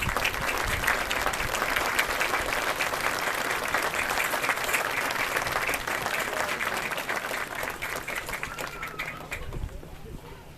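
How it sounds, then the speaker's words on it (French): A crowd claps steadily for honoured guests at the outdoor inauguration of a Louis-Joseph Papineau statue, dense and sustained for about ten seconds before thinning out near the end. "À ces gens, une bonne main d'applaudissements."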